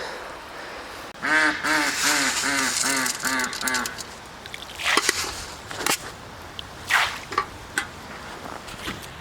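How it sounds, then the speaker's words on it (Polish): A duck quacks in a quick rhythmic run of about eight calls, followed by scattered honks from geese and bird sounds nearby. "O, gęsi tu przyszły. A kaczki tam jedzą"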